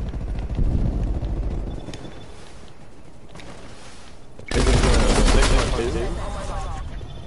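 Gunfire in the video game Black Ops Cold War comes as loud bursts and rapid volleys, with a harsh burst of automatic fire partway through, and a voice speaks over it.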